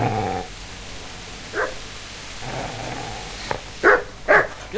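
A dog in the medieval Bohemian world of Kingdom Come: Deliverance growls low, then lets out a few sharp barks near the end, moderately close over a quiet background.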